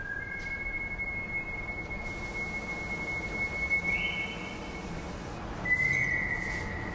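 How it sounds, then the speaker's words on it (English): Iconic show-starting whistles open the 2021 West Side Story teaser: a long, clear whistled tone that steps up in pitch partway through, then a second brief, brighter whistle near the end, over a faint hushed background. "this official teaser for West Side Story starts out with those iconic show-starting whistles."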